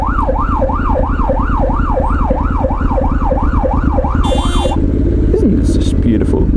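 A police car's wailing siren rises and falls loudly and close by for about four seconds as it pulls over a motorcyclist lane filtering in traffic, then cuts out, leaving steady road and engine noise with a brief horn-like tone.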